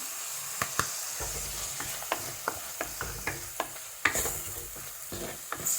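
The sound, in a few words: tomatoes sautéing in pan for amla rasam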